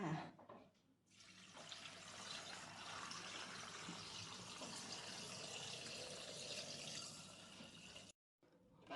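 Fish sauce pours into a jar in a steady liquid stream, a continuous close gurgling trickle that runs for about seven seconds before stopping abruptly, with no talking.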